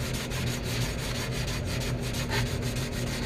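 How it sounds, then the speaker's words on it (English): Sanding a 1966 Ford Galaxie 500 convertible wheel cover by hand, a close, loud, continuous rhythmic rubbing and scraping with quick back-and-forth strokes. "I know I gotta sand more."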